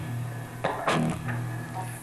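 A few tight, short electric guitar notes played through an Alesis Quadverb-style reverb, each leaving a brief room-like tail; moderately quiet, close, with no talking.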